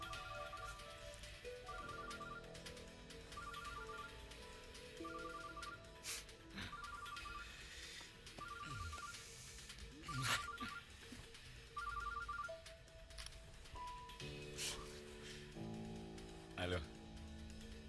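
A mobile phone ringtone repeats in short melodic bursts over a busy background with movement and occasional talking.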